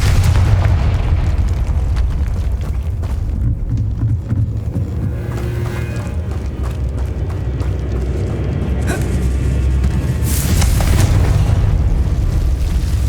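A Confringo blasting spell in Hogwarts Legacy sets off a deep, rumbling explosion, loud and sustained with crackling debris, and a sharper burst near the end.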